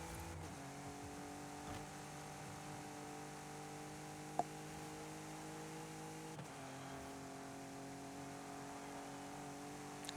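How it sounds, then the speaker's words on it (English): A supercharged race car in Forza Horizon 5 holds a steady high whine over its engine hum, with one brief gear-shift dip and a faint click, continuous and even. "We are supercharged. I can hear it going whine and whine and whine."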